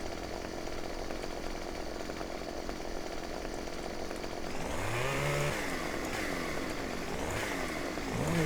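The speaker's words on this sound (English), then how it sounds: "this chainsaw wants to cut" In Farming Simulator 2015, a chainsaw cuts logs: a steady buzzing idle swells into loud, rising and falling revs with whining pitch sweeps as the saw bites and eases off, close and unaccompanied by speech.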